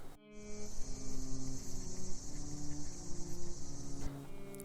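Insects chirp on an autumn night beside a stream, a dense, steady high-pitched trill that runs almost unbroken and is close and fairly loud over a low background murmur, then stops abruptly near the end.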